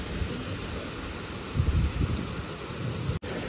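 Heavy monsoon rain pours down during a storm, a dense continuous hiss and roar with low rumbles swelling midway, steady and fairly loud, no voices.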